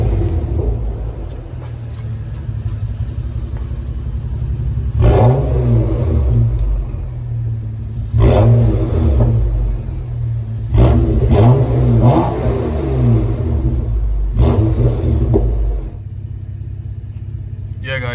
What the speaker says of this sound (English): This is what it sounds like when I rev it up.